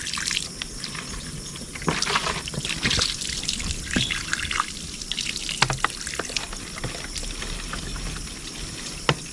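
Clear, filtered spring water trickling steadily along a hiking trail in Hong Kong, a continuous close splashing dribble with small drips and no talk.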